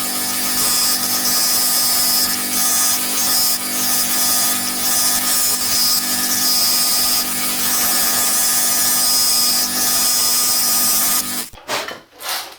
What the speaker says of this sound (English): I'm going to do this on my coping saw